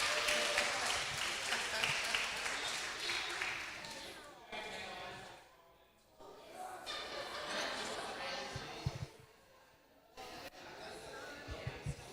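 A quiz night crowd claps for a winning team, with bursts of applause that dip and swell amid chatter and talk.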